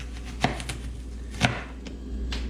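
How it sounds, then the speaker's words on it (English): A knife slicing onion for an omelet on a cutting board, with a few distinct, unhurried chops close by and a soft background hum. "I will usually slice up a bunch of onion"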